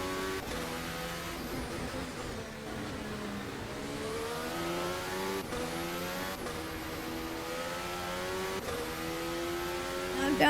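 A Formula 1 race car engine screams through gear changes in a racing game set at the 2026 Australian Grand Prix, rising and falling pitch sweeps repeating as it downshifts and accelerates, loud and close.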